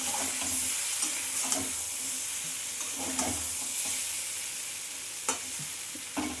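A pickle mixture is stirred in a frying pan, with a steady sizzle broken by several scraping strokes and knocks of a spoon against the pan, up close and without speech.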